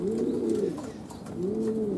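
Racing pigeons resting inside their loft on a mild morning give two drawn-out, low cooing phrases, close and clear, with a pause between them and no talking.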